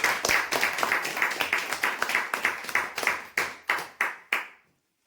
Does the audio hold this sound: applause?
yes